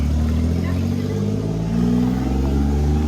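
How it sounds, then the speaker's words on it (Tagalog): A motorcycle engine idles and revs nearby with a steady, loud mid-pitched drone and some mechanical clatter, continuous for a few seconds with faint voices in the background. "Kaninong motor yan?"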